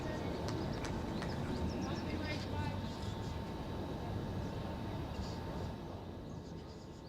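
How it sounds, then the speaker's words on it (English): An airplane flies overhead above a Sunday league cricket match, a steady broad roar that holds for several seconds and eases slightly toward the end, with faint voices in the background. "You can hear a plane overhead."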